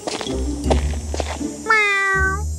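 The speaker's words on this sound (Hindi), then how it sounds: "बिल्ली ने धीमी से म्याऊं किया।" A cat gives a single soft, drawn-out meow near the end, preceded by a few light knocks and shuffling sounds close by, from an animated story.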